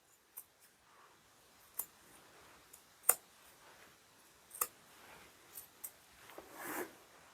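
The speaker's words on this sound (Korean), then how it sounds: "중간 돌아가면서 살짝살짝 가위밥을 주시는데 사선으로 주세요" Scissors make small diagonal snips into the seam allowance of a lined jacket or coat at a curved hem, heard as soft, faint, scattered cuts spaced irregularly with quiet pauses between them.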